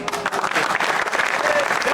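An audience at a Jain sermon breaks into dense, crackling applause, with a voice talking over it.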